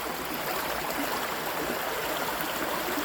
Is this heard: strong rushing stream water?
yes